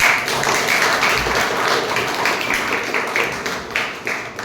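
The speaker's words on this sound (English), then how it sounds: "Please give a round of applause for him again" An audience at a Toastmasters club meeting applauds after a speech, a steady patter of many hands clapping close by for several seconds with no speech over it.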